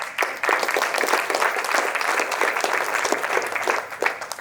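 An audience at a Carnatic vocal concert by a music school in Milwaukee breaks into lively applause, with many individual claps audible in a close, full room and a faint murmur of voices.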